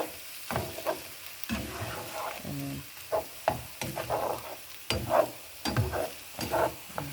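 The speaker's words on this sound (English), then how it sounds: "now I'm going to mix it in with my spinach and my shrimp" Shrimp, scrambled eggs and spinach stirred together in a frying pan, with repeated scraping strokes and bursts of sizzling in an uneven rhythm, close and moderately loud.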